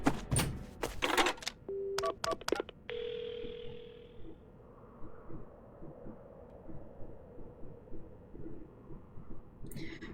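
In the Paranormasight video game, a phone is dialed to call an ambulance: a burst of sharp button clicks and tones, then a steady dial tone that fades out into a quiet low ambience.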